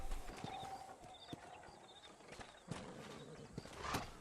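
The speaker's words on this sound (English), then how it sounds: "Hitch up that horse." Faint, scattered hoof clip-clops from a horse in the video game Red Dead Redemption, irregular soft knocks over a quiet hum and light ambient buzz.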